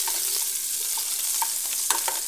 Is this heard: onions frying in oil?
yes